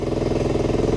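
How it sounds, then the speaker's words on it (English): A Honda 2.3 outboard motor idles with a steady, even mechanical drone and a regular low pulsing, close and continuous throughout. "Now, I have it on idle here"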